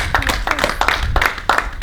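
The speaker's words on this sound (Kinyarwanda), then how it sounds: "Mubongera amashyi kabisa." Audience clapping, a few loose, irregular hand claps spread across a couple of seconds at moderate volume, with no talking over them.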